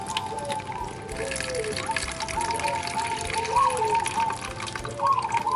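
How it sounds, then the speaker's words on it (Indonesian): Water is poured out of a container holding tubifex silk worms as it is drained before refilling, a steady splashing, trickling stream that runs close and fairly loud for the whole stretch. "Jadi airnya dibuang dulu."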